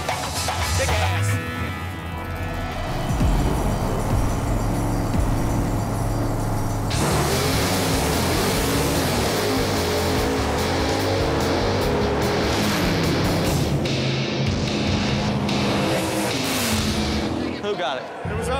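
Drag race cars launch off the line, Jeff's Malibu wagon among them, with engines roaring loudly and continuously, a sharp shift in pitch partway through, and excited voices shouting over the racket.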